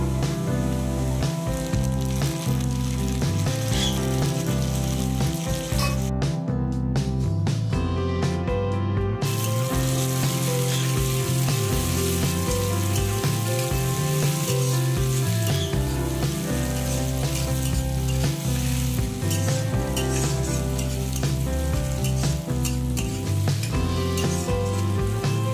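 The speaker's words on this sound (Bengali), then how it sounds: "পেঁয়াজটা ভাজা ভাজা হয়ে গেলে এবার দিয়ে দেবো টমেটো কুচি।" Onions and chopped tomatoes fry in a pan, giving a loud, continuous sizzle with stirring throughout, over a steady tonal hum.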